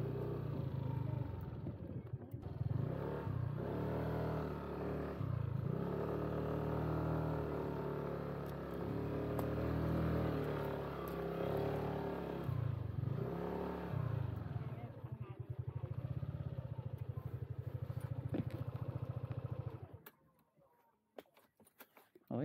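A Yamaha Aerox scooter idles and revs steadily close by while being parked, its engine rumbling for about twenty seconds before cutting off into near silence.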